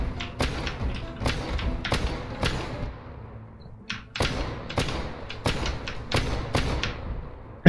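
Repeated sharp shotgun blasts from a gun mod in the game Hollow Knight, roughly one or two shots per second, punchy and close with combat thumps between.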